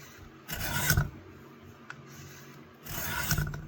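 An old Craftsman or Remington hand tool is sanded with heavier-grit paper in a workshop, two separate bursts of rough rasping strokes with a quiet gap between them.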